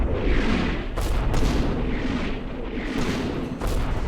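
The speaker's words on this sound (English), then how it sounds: "there's the artillery. It's coming in." Artillery shells landing in the Combat Mission Normandy video game, a dense, continuous rumble of booming impacts with several sharper blasts standing out, loud and sustained with no voices.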